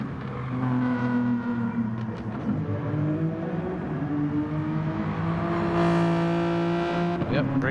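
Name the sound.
GT4 race car driving into the pits, from a video game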